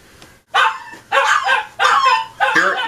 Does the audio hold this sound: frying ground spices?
no